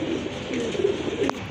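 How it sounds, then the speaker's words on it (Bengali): Pigeons at a market sale coo softly and repeatedly close by, their low murmuring calls filling a brief moment with a faint rustle near the end. "খুব ভালো মানের এক জোড়া কবুতর"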